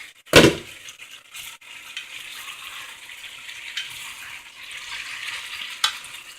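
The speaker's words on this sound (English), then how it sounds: "After 5 minutes, stir them up." Beef rendang with coconut milk bubbles in a pot and gets stirred: one sharp utensil knock opens a soft, continuous simmering hiss with faint scraping, close by and without speech.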